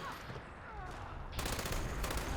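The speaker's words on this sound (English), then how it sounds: "Today I'd like to talk to you about the 308 light machine gun." A .308 light machine gun, modeled on the German MG42, fires in Fallout 76: a faint, distant rattle of rapid automatic bursts that swells into a denser, closer volley partway through.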